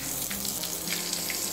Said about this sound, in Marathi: आता मसाला जो आहे हा आपल्याला तेलात छान असा परतवून घ्यायचा आहे।